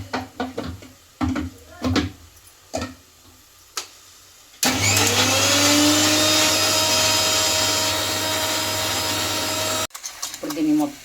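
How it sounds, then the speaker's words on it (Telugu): A kitchen mixer grinder whirs loudly and steadily for about five seconds, blending green chillies with salt into a paste. Short clicks and handling knocks come before it, and a brief rattle follows when it stops. "ఇప్పుడు దీన్ని మిక్సీ చేసేస్తా"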